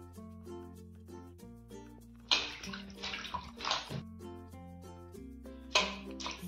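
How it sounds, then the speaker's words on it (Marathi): Fenugreek greens are washed by hand in a bowl of water, giving a few short bursts of splashing and sloshing over soft background music. "परत ही भाजी काढून दुसऱ्या पाण्याने चांगली स्वच्छ धुवून घ्यायची"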